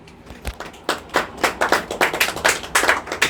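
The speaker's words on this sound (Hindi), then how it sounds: "चलिए ठीक है, ताली बजा दीजिए।" Classroom clapping from a group of students at a general-knowledge quiz lesson, a dense burst of hand claps that builds and continues steadily and fairly loud throughout, with no talking over it.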